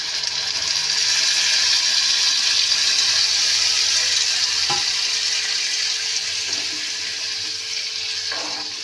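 Mango, mustard and green chilli paste poured into a pan of frying prawns gives a steady watery sizzle that holds for several seconds, with a few sharp utensil knocks near the end.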